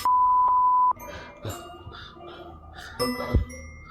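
A door alarm emits a loud, steady electronic beep for about a second, with a shorter blip inside it, followed by faint clinks and rustles in a quiet room.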